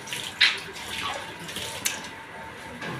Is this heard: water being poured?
yes